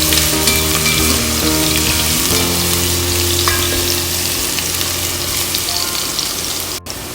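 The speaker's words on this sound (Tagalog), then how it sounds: "I think the oil is already hot, so we just have to saute all the ingredients. First, we have to put the garlic." Garlic sautéing in hot oil for a Filipino tinolang bangus, a loud continuous sizzle with faint stirring scrapes and no speech.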